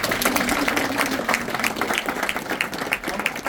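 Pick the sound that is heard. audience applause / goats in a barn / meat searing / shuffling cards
audience applause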